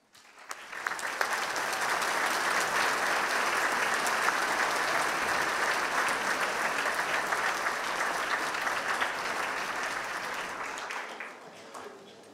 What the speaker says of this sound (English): let me invite you to join me in giving a very warm round of applause to the